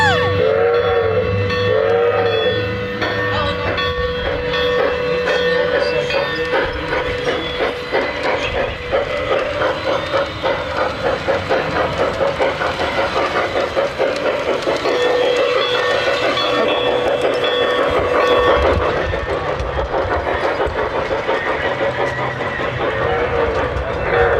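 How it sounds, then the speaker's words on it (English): A model train runs steadily along its track with a continuous rumbling hum and rhythmic clicking, close and loud, with occasional whistle-like tones. "This train that I'm running right now"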